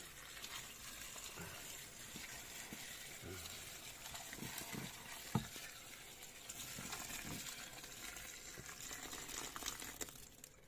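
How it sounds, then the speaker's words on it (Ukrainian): Boiling water poured over parsley in a colander set in a bowl, making a faint, steady gushing splash with small scattered knocks and one sharp clink. "І зараз це ми заливаємо окропом."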